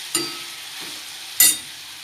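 Potatoes in a pan being stirred as they fry, two sharp scraping stirs over a soft background sizzle, with no voices.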